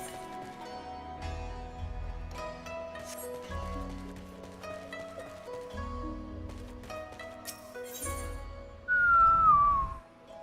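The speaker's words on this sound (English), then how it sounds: "And whistling barely picks up on this" In Final Fantasy XIV, a brief descending whistle sounds near the end, loud and close over looping game music and soft hoof-like clip-clops.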